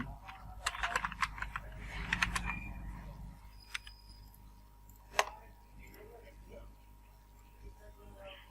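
Rapid clicking on a computer keyboard while a political poster is designed, with clustered keystrokes early on, then a few sparse, faint clicks. A voice talks throughout.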